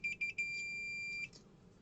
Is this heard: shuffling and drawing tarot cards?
no